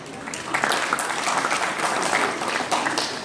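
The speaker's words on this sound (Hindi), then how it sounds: "अपनी तालियां बजाते हैं" Audience at an inauguration ceremony for a Kashmiri youth exchange program claps to welcome guests: steady, fairly close applause from a hall full of people, continuous throughout with no talk.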